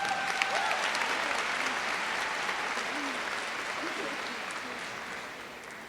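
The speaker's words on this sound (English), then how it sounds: "Let's give Ashley another round of applause," A commencement audience at a university spring graduation applauds steadily, a dense wash of clapping that stays even and fills the hall before tapering slightly at the end.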